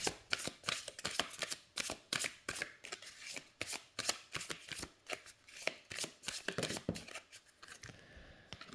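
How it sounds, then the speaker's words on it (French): Close riffle-shuffling of a deck of oracle cards in a steady, rapid rhythm of crisp flutters and slaps, alone, fading to quiet at the end. "Donc les cartes se mélangent très très bien. Elles glissent très bien entre elles."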